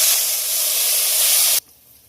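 Ginger and green chili paste tossed into hot oil already tempered with black cumin seeds and two bay leaves, after frying fish, gives a loud, steady sizzling hiss that cuts off sharply after about a second and a half.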